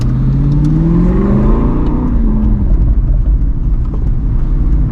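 An Aston Martin Vantage GT engine revs hard, its growl rising in pitch and then easing off. Loud and close, with no voices.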